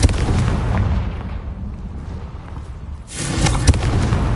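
The Confringo fire spell in Hogwarts Legacy detonates as a loud, booming blast with a rumbling tail, followed by a second surge of crackling explosive noise.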